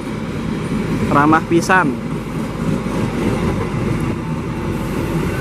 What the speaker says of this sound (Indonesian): Kereta api Argo Wilis berangkat kembali dari stasiun Cibatu mengarah ke stasiun Bandung